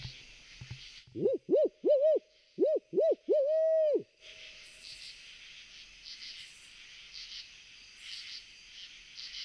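A person imitates an owl in a Kentucky national forest, giving about six loud, close hooting calls in a rhythmic series over the first four seconds, followed by a steady night chorus of crickets and insects.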